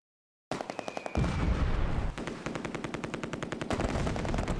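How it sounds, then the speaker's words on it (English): A Vickers machine gun fires in the WWII game Close Combat: A Bridge Too Far, at the Oosterbeek landing zone. Loud, rapid, sustained automatic bursts rattle on with dense gunfire layered underneath, and no voices are present. "The Vickers joins in."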